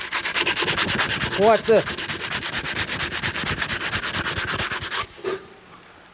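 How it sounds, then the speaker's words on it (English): Coarse 40-grit sandpaper scrubbed across a cast iron water pump to strip old gasket material, with steady rhythmic back-and-forth strokes up close, a short spoken question partway through, then the rubbing stops. "Sandpaper's okay on cast iron. Take it and rough it up."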